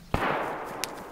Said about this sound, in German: So viele Schüsse.